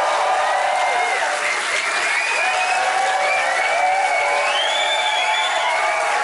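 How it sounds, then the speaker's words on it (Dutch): A television studio audience applauds and cheers for Belgian comedian Philip Geubels, a dense, sustained wash of clapping with some whistles and shouts rising over it, loud and continuous throughout. "Graag uw applaus voor Philip Geubels."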